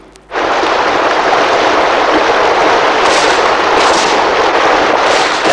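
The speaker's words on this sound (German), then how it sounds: "Woher kommen diese Schüsse?" Continuous loud, dense crackle of gunfire in a radio drama of The Last of the Mohicans starts abruptly after a brief quiet moment and keeps going without pause, like a sustained volley.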